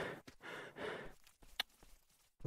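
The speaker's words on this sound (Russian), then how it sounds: "Что ты так пыхтишь-то?" A character in the S.T.A.L.K.E.R. video game breathing heavily, a few long puffing exhales followed by shorter huffs and a sharp snort, close and quiet, with no talk.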